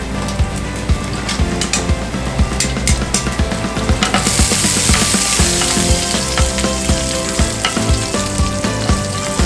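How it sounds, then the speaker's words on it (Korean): Sliced chorizo sizzles in oil in a pan over low heat, a loud, steady crackling fry with bursts of popping and occasional stirring clinks. "약불에서 지글지글 끓으면서 초리조에서 나오는 그 맛과 향이 있거든요"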